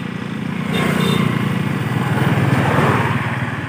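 A Yamaha R15 V4 motorcycle engine, fitted with a quickshifter, runs loud and close with a buzzy, pulsing rev that swells after a brief start and holds steady, with no talking over it.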